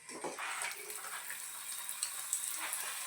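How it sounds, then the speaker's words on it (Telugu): Meal maker pakodi pieces are dropped into hot oil over a medium flame. The oil answers with a soft, steady hiss and scattered small crackles, quiet and close. "నూనె వేడెక్కిందండి, వేసేసుకుందాం."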